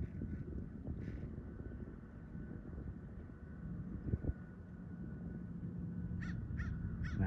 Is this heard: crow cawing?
yes